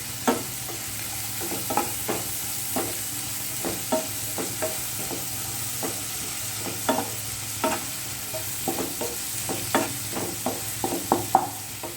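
Onions with salt sautéing in a pan for egg puffs filling, a soft continuous sizzle broken by regular spatula stirs and scrapes, close and unaccompanied by talk.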